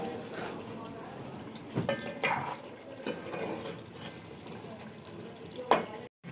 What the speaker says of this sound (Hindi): अब ये गल गए हैं, तो हम इन्हें भुनना स्टार्ट कर देंगे